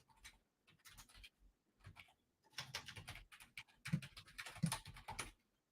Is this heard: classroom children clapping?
no